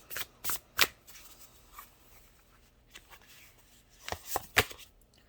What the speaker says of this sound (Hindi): मैं 2 कार्ड या 1 कार्ड निकालूंगी